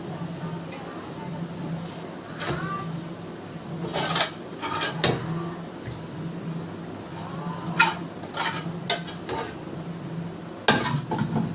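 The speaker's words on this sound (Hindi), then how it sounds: "तो अभी मैं इसको एक बर्तन में करके रख देती हूँ।" Sabudana khichdi being transferred into a pot in a home kitchen, with scattered spoon-on-metal clinks and scraping clatter, moderately close over a steady background hum.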